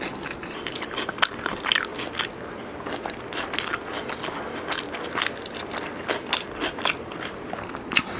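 Close, wet chewing and crunchy bites of chicken biryani with raita and chicken fingers, irregular crackly mouth sounds repeating steadily with no talking.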